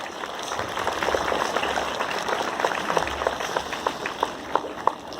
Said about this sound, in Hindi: एक बार जोरदार तालियों के साथ हम सब अपना अभिनंदन करेंगे